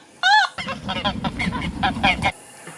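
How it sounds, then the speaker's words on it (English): Geese honk in a rapid, loud series of nasal calls close by, one longer cry followed by a run of quick overlapping honks, with no talking. "It really does detect geese."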